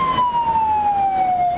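An ambulance siren wails steadily and loudly in a single slowly falling tone on a road in Lima, Peru, heard up close over low road rumble.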